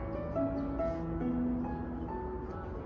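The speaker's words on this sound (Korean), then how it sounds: "봉은사 둘레길에는 곳곳에 스피커가 설치되어 있어서 조용한 음악이 나와요." Soft, steady music plays from speakers along the Bongeunsa temple forest walking trail in Samseong-dong, a quiet, continuous wash of sustained tones with no talking.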